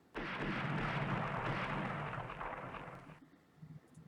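Naval guns firing in the warship game Rule the Waves, one heavy booming blast that rumbles loudly for about three seconds, then cuts off sharply into quieter background.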